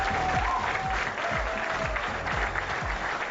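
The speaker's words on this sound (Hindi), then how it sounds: "सभी लिए ताली बनती है यार" Steady crowd applause fills a felicitation ceremony in Delhi honouring Olympic medal winners, a dense, continuous wash of many hands clapping at moderate distance with a faint tone running underneath.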